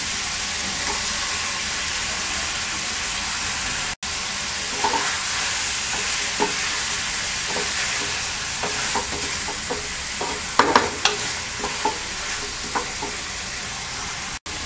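Pieces of boal fish frying in a pan with cauliflower and tomato slices: a constant close sizzle and hiss, broken by scraping stirs and a cluster of sharper spatters and clinks near the end.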